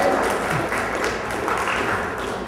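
An audience at a software training session claps, a steady patter of applause from a modest crowd lasting a couple of seconds, fairly close and even.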